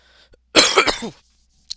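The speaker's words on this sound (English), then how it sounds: "I'm sorry for the cough" A single harsh cough burst with a short follow-up, close and loud, then quiet with a faint click near the end.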